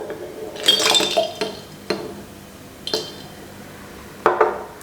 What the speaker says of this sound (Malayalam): കുറച്ച് ഐസ് ക്യൂബ്സ്